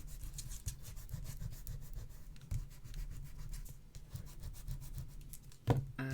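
A rubber eraser scrubs pencil marks off paper during gift-box folding, a quiet, close, rapid back-and-forth rasping in quick repeated strokes with a few soft bumps, no talk.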